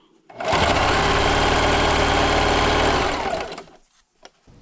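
An electric sewing machine stitching fabric strips on a scrappy strip quilt, running in one steady, close, loud burst for about three seconds before stopping.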